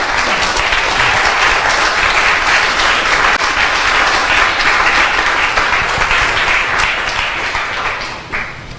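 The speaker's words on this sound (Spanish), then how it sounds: "Den un aplauso al Señor." A church congregation breaks into loud, dense applause, steady clapping from many hands that holds for several seconds before easing slightly at the end.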